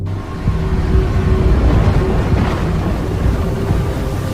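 Ambush, the monster from the Roblox game Doors, gives a loud, dense roaring rush of distorted noise that swells slightly midway and holds steady throughout, alone.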